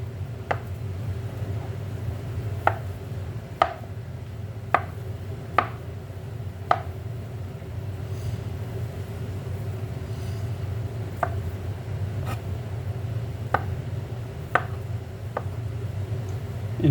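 A knife chops boiled potatoes into small pieces on a board, sounding as scattered sharp taps, a few in quick runs with pauses between, over a steady low background hum.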